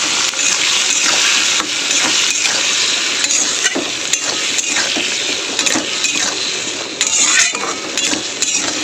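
Mustard, green chilli and tomato masala paste being stirred and fried in a pan, with a loud continuous sizzle and frequent scraping of the spoon throughout, close up with no voices.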